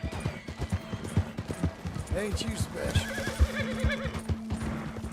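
A horse in the Red Dead Redemption 2 video game whinnies in wavering calls over steady hoofbeats, loud and close, while someone speaks over the sounds.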